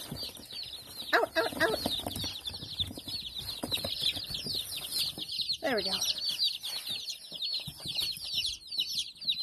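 Baby Bielefelder chicks cheep in a constant, high, rapid chorus close by as they are let out of a box, while someone speaks over them.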